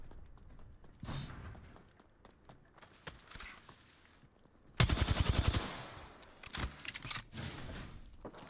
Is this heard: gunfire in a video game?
yes